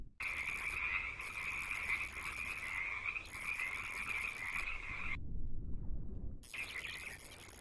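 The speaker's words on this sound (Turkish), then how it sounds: "O kurbağayı buldum chat." Repeated frog croaks from a fishing video game, loud and steady over a soft ambient bed, cutting out briefly near the end before resuming, with no talking.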